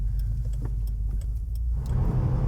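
A 2016 Subaru WRX with a turbocharged engine accelerates, giving a steady low engine drone heard from inside the car that grows louder and fuller toward the end.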